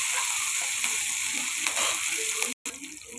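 Fenugreek leaves fry in hot oil in a pan, a close, steady crackling sizzle with occasional stirring scrapes and a brief dropout near the end.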